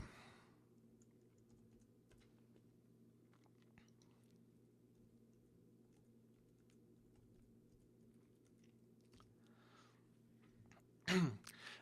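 Quiet computer keyboard typing while logging in with a username and password, soft scattered keystrokes at low level, ending in a brief louder clatter.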